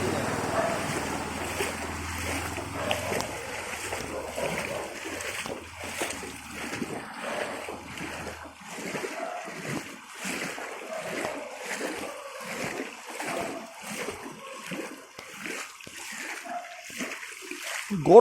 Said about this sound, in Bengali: বাইক নয়, নৌকাই যাচ্ছে।